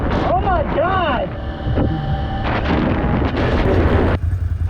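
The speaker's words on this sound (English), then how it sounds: "I've never been that fast on a four-wheeler, and this is the 850." Polaris 850 four-wheeler ATV racing at high speed near 70 mph, a loud continuous engine roar under heavy wind buffeting, with excited voices shouting over it.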